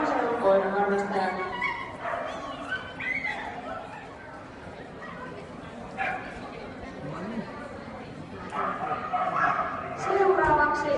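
Border Collie barking during a dog agility run at a competition, short barks scattered through a busy, crowded soundscape with a voice talking over much of it.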